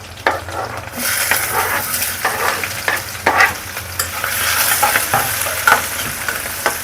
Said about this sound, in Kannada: ಸ್ವಲ್ಪ ಲೈಟಾಗಿ ಕಲರ್ ಚೇಂಜ್ ಆಗೋವರೆಗೂ ಫ್ರೈ ಮಾಡ್ಕೊಳ್ಳೋಣ.